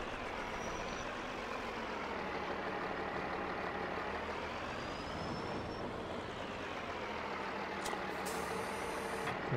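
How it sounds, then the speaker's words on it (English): A quiet truck in Farming Simulator 22, with no turbo sound, idles at a steady low rumble, faint and alone, with a brief hiss near the end. "Super duper quiet truck minus the turbo sound."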